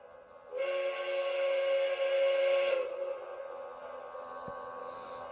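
A Lionel Walt Disney World 50th Anniversary Express toy train gives one steady whistle blast lasting about two seconds, close and clear over a faint mechanical hum, then fades out.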